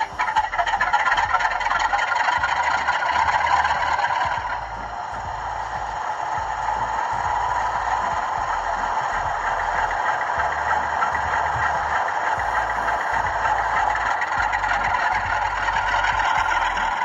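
Diesel engine sound from a Bachmann Class 47 model locomotive with a sound-fitted decoder: a continuous droning idle with a rattly, buzzing texture, easing slightly in level after a few seconds and then holding steady throughout.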